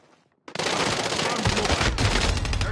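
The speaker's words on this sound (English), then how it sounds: "Under hostile fire." Loud, dense automatic gunfire from the Call of Duty Warzone video game bursts in after a brief quiet moment and keeps rattling without a break, swelling slightly heavier toward the end.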